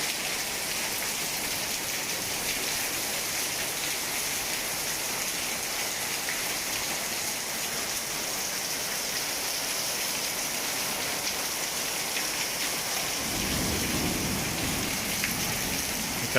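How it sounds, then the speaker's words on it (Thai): Heavy rain pours steadily through a nighttime summer storm in Udon Thani, Thailand, a dense continuous hiss with a low rumble swelling near the end. "ฝนจะตก ไม่มากนะครับ แต่ปรากฏว่าตอนเนื่องถึงตอนสี่ทุ่มนี้ก็โห ยังไม่หยุดเลยนะครับ"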